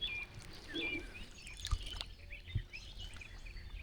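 Birds chirp and trill softly in the distance by a river over a low, steady outdoor background, with a couple of faint thumps.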